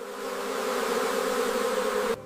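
Honeybees at an apiary hive, swept by a high-powered blower across the comb, give a loud, steady, dense buzzing drone that cuts off abruptly at the end.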